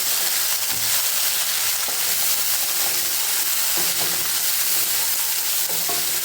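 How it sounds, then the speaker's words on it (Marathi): Onion and chopped tomato sautéing in a pan for a liver dish, a loud, dense, continuous sizzle with occasional soft stirring knocks, close up and without talk. "आता यात मी एक छोटं कापलेलं टोमॅटो टाकत आहे आणि याला सुद्धा मस्त परतून घेते"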